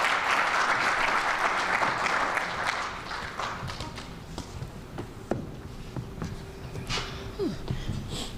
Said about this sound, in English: Can we give them an amazing round of applause?